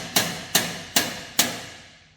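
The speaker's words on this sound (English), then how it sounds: "World's cutest hammer." Small hammer striking metal during rebuilding work on an old private jet: four sharp, evenly spaced metallic taps, close and clear with short ringing decay, no talk.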